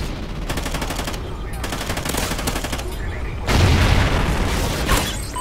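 Rapid automatic gunfire from Call of Duty: Ghosts on PS3, on the Devastation DLC maps. Dense bursts of shots with booms and a heavier barrage near the end, loud and continuous.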